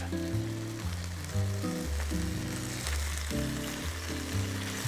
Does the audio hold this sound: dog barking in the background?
no